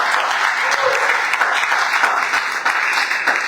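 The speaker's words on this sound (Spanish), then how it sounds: "Dale un aplauso al Señor porque Él puede transformar vidas." Church congregation applauding at a worship service, a dense steady roar of many hands clapping close by, sustained without pause.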